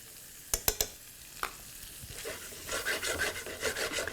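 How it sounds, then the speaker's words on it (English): Prawns and squid with curry leaves, green chilli and turmeric cook in a pan over gentle heat, giving a faint sizzle with a few sharp utensil scrapes early on and soft rhythmic stirring strokes toward the end. "Squid and prawn actually cooks very quickly on gentle heat"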